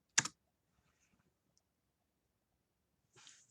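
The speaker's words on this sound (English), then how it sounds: "just type in .net here, hit enter," Keys clicking sharply at close range, a brief burst of typing and an enter press on a computer keyboard, followed by a quiet gap and a softer rustle of clicks near the end.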